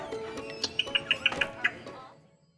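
A bird on a Montana backroad calls in a quick run of about seven sharp, bright chirps, close and clear, then trails off into quiet.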